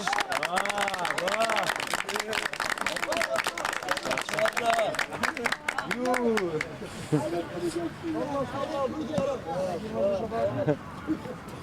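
Scattered clapping rises among players and spectators at an amateur football tournament match, mixed with loud shouting and chatter from the crowd throughout.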